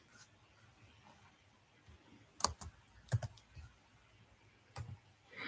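Sharp, scattered keystrokes on a computer keyboard as Python code is typed, clustering in short bursts around the middle and end of a quiet passage, close and clear.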